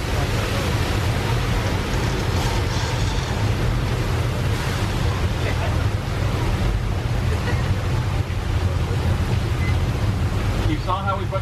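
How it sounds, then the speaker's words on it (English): Water shot up into the air for a studio tour effect at Universal Studios Hollywood crashes and sprays in a loud, continuous rushing roar like heavy surf, with wind-like noise throughout. "You notice how we shoot the water up in the air and then it comes?"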